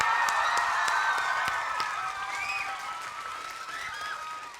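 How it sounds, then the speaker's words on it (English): A large crowd at a school rap-battle event claps and cheers together, a dense applause with high whoops and shouts that gradually tapers off. "can we all give ourselves the biggest cheer and round of applause for how amazing everybody looks?"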